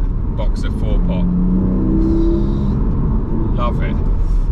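A stock Porsche Cayman GTS with the 4.0 engine hums steadily from inside the cabin while driving, a low continuous drone under a voice.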